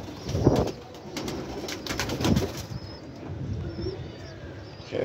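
A pigeon nearby beats its wings in two loud bursts of flapping, then gives low soft coos, close up and with no voices.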